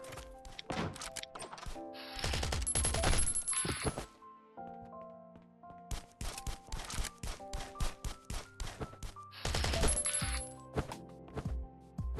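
Gunshots in the survival video game Last Island of Survival come as bursts of sharp, percussive cracks, some rapid and clustered and others spaced apart, with metallic clinks and thuds mixed in at moderate loudness.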